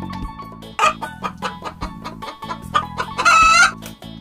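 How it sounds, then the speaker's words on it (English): A toy hen's recording plays a run of rapid, rhythmic clucks. It builds to a louder, drawn-out crowing squawk near the end, all close and clear with no voices. "Hen."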